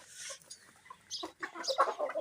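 A Japanese hen with black plumage clucks close by in a short series of soft, irregular clucks and chirps, with no talking.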